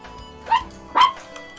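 A pet dog gives two short, sharp barks about half a second apart, fairly close and clear against a quiet room.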